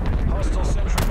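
A frag grenade blasts in the video game Call of Duty: Black Ops Cold War, a loud, booming burst with heavy low rumble filling the short moment, with a voice speaking over it.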